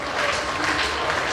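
Applause from the guests at a 60th birthday celebration banquet: dense, steady hand clapping that fills the room, sustained and fairly loud throughout.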